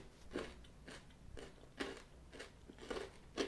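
Biting and chewing squares of Ritter Sport cornflakes chocolate, close and crisp, with about seven separate crunchy bites spaced roughly half a second apart, each one a short dry crackle with quieter chewing in between.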